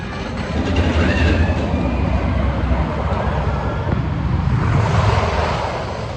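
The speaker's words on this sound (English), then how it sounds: "Where's the train? Where's the train? There it is." A small amusement park train at Kings Island rumbles past close by, steady clattering and rolling noise filling the whole stretch without a break.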